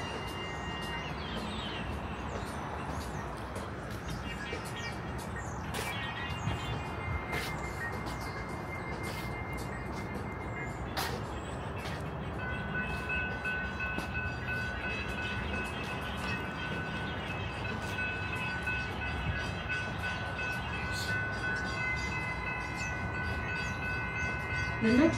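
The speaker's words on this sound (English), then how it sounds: "The next westbound train is arriving." A St Louis MetroLink light rail train gives a broad, steady rumble with thin wheel squeals and scattered clicks and clanks, growing slightly louder toward the end as it arrives at a station.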